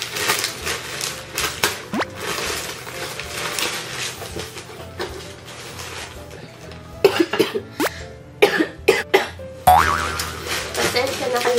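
A person coughs several times in short, irregular bursts, some sharp and close, between stretches of background noise and movement; the coughs come in clusters toward the end.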